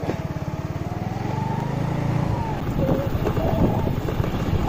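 A scooter rides along a coastal road north of San Juan del Sur, Nicaragua, its small engine droning steadily throughout with wind buffeting the microphone, loud and close.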